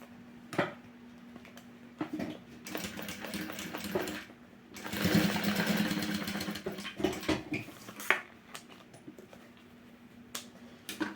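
Sewing machine stitching synthetic fabric for a box-style pouch, quiet rapid mechanical whirring in short runs with one longer louder burst in the middle, separated by pauses and small handling clicks.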